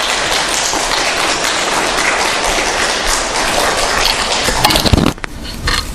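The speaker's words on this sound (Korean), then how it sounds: "뜨거운 박수로 환영해 주시면" A church congregation gives loud, sustained applause to welcome a visiting pastor, a dense wash of many hands clapping that holds steady before dropping off sharply near the end.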